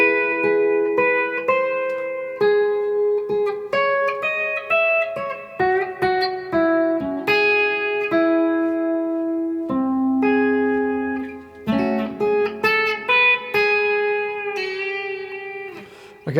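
A guitar plays the melody heard after the first chorus of a song, a variation on the intro, as a steady string of clean picked single notes and brief double-stops, close and clear, with one low sustained bass note partway through and no voice.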